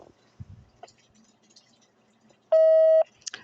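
Voicemail beep tone: a single steady electronic beep about half a second long, loud and clear against near silence, with a few faint soft noises before and after.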